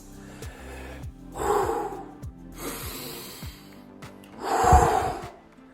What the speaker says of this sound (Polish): nawet szybkie oddychanie, ale głębokie oddychanie